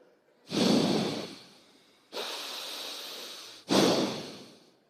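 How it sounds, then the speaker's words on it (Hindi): Three deep breaths drawn in one after another, each a long airy inhale, heard close and fairly loud with quiet pauses between them. "श्वास भरो"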